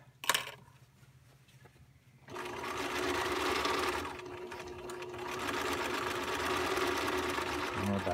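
A home sewing machine stitches fabric in production-style sewing: after a short sharp clack and a quiet pause, the motor starts and runs in a steady, close, rapid whir that carries on to the end.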